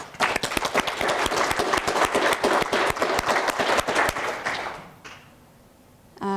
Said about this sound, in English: I'd like everybody to give them a big round of applause